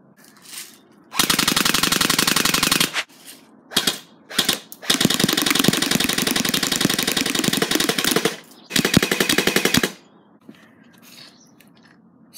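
Fully automatic Thompson-style pellet gun firing at pumpkins, long rattling bursts of rapid shots separated by short pauses and a few brief single bursts, loud and close.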